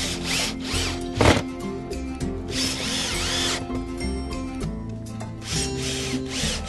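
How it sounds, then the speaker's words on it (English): Power drill driving screws into a wooden bat house, a steady whine under continuous workshop clatter, with one sharp loud burst near the start and the motor running close throughout. "now I'm just gonna go ahead and set those screws in"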